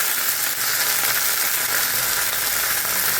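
Paneer frying in oil in a pan gives a loud, steady, close sizzle that fills the whole stretch without a break.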